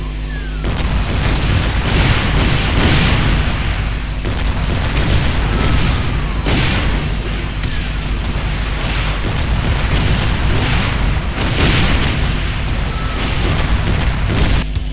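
Enemies in Brutal Doom with FreeDoom II keep up constant gunfire, heavy booming shots and rapid bursts layered over one another, loud and continuous for the whole stretch with almost no pauses.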